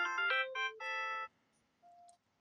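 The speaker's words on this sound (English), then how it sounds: "Doctor, my phone is buzzing." Phone ringtone from the video game Time Only Knows: a bright electronic melody of several quick tonal notes, clear and up front, followed by a short sustained beep, with no talking.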